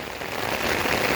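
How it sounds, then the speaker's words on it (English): Steady rain falling in a riverside park in Victoria, a dense continuous patter of drops close by with no voices. "But I swear every time I come here, ooh, that went right down my back. It rains."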